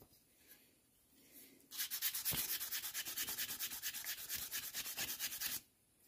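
Rust being sanded off the bare metal of an old classic car, a steady run of rapid, rhythmic abrasive strokes up close that stops abruptly, with no talking.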